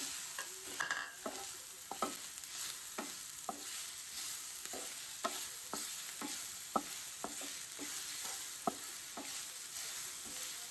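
Onion frying in hot caramel sizzles steadily, with a continuous hiss broken by regular clinks and scrapes of stirring, close and moderately loud, with no talking.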